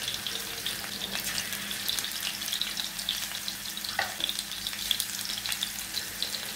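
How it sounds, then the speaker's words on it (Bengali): Chicken boti kebab pieces fry in hot oil with a steady, close sizzle and crackle, and a faint stirring or utensil clink partway through. "তারপর ওগুলোকে আমি ভেজে নেব। তেল দিয়ে দিলাম আর হচ্ছে যে একটা একটা করে দিয়ে দিলাম"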